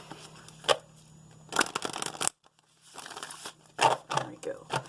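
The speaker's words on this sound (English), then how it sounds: "Shuffle up." Tarot cards are shuffled up close in several quick riffling bursts broken by short pauses, with brief talk in between.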